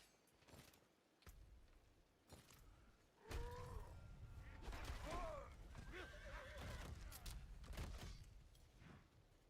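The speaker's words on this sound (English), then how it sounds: "Totally forgot about the horse." A horse whinnies in a video game, several rising neighs over clattering hooves and mechanical background effects, with no voices present.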